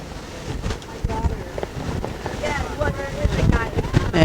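A river tour boat on the Detroit River, its engine and hull a steady rumble under gusting wind that buffets the microphone and faint water wash, with people talking in the background.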